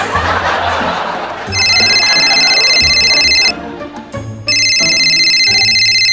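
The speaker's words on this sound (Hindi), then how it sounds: "कितनी देर से उनका फोन बज रहा है।" A telephone rings with a bright electronic ringtone in two long bursts separated by a brief pause, loud and close over giggling and chuckling in the room.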